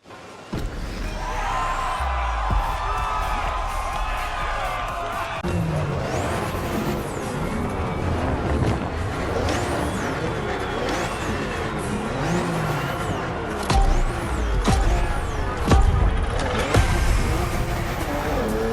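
Several latest BMW M cars racing in the video game The Crew Motorfest, engines revving and accelerating through repeated gear changes, loud and close throughout.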